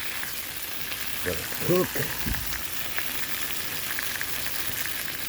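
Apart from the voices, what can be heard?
BBQ chicken legs sizzling on a Blackstone grill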